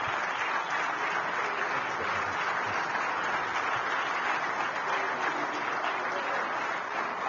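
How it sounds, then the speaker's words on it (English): Sustained, even applause from a large audience at a Nigerian governance forum as a departing governor makes his exit, a dense wash of clapping with no break. "please give him a round of applause."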